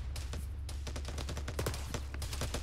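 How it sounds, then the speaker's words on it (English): Rapid automatic gunfire crackles in ArmA 3 during a combined arms operation, a dense continuous burst of many shots firing close and loud without pause. "they're shooting from the other side"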